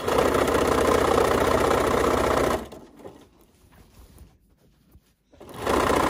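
A sewing machine stitching quilt binding runs in a loud, fast, steady mechanical whir, close by, then stops abruptly, leaving a few seconds of faint quiet before the motor starts up again.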